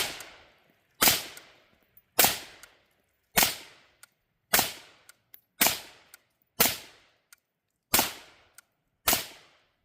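Eight sharp suppressed gunshots fired through an Energetic Armament Ferox steel suppressor, spaced about a second apart, each a crisp loud crack with a quick decaying tail and near silence between.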